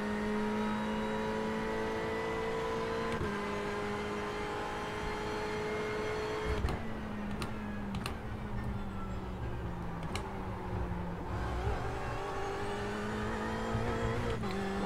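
Ferrari race cars in iRacing, engines droning steadily with pitch shifts as cars pass and overtake, several gear changes and tonal sweeps, continuous and fairly close, no talk.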